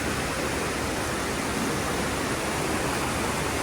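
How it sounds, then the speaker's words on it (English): Brook or river rushing right below a motel balcony on the Appalachian Trail, a dense, steady broadband wash of flowing water, loud and unbroken with no voices. "we are right on the brook or the river"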